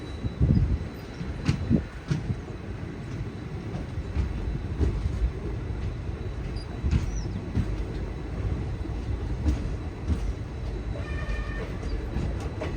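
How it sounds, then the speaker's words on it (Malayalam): A passenger train on the Mysuru–Chamarajanagar line rolls into Nanjangud railway station, a steady low rumble with rhythmic rail clatter and a brief horn-like tone near the end, heard without speech. "നഞ്ചൻഗൂഡ് റെയിൽവേ സ്റ്റേഷനിലേക്ക് ഇതാ ട്രെയിൻ എത്തിക്കൊണ്ടിരിക്കുകയാണ്."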